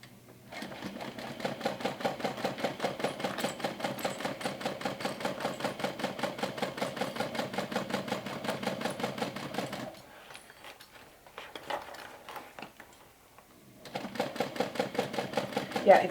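A sewing machine stitches a pocket onto a mini backpack in fast, steady mechanical bursts, pausing briefly midway amid soft handling noises before running again.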